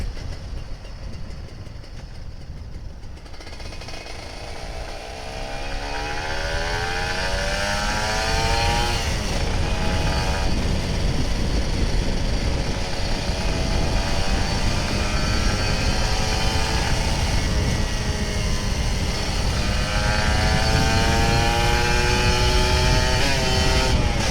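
An old Kawasaki Ninja RR 150 sport motorcycle at full throttle revs hard and climbs through repeated rising sweeps as it accelerates at night, loud and continuous, with steady wind and road roar underneath.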